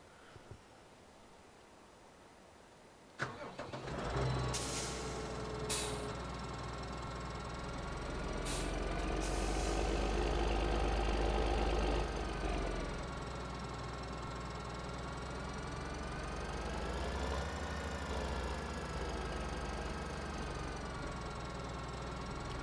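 Tractor engine in the Farming Simulator 2013 video game starts with a sharp click, then settles into a steady synthetic drone that swells and eases over about twenty seconds, with a few brief clicks early on.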